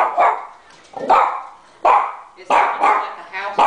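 A dog barks loudly and close by in repeated sharp bursts, about six barks spaced irregularly, with voices around it.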